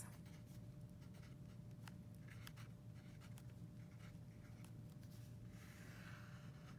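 Pencil writing on paper while labeling a page for an oil pastel workshop exercise, heard as a run of close, light scratchy strokes over a steady background hum.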